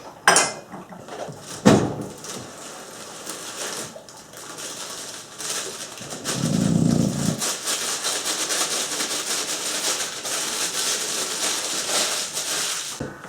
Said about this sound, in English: the cake mix, opening up, which I'm putting in this big measuring bowl